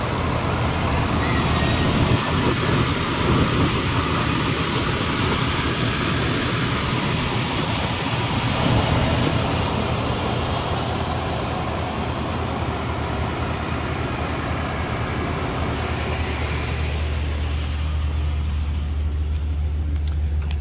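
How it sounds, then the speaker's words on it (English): A 1991 Cadillac Brougham with its fuel-injected 5-liter engine idling, a steady low rumble with broadband hum running without a break; no talk over it. "Injected 5-liter under the hood. Runs fantastic."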